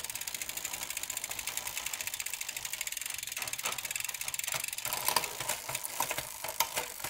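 A steady ticking ratchet from a carbon racing bicycle's freewheel runs throughout while a Shimano rear derailleur shifts down, with a few sharper clicks near the end, quiet and close.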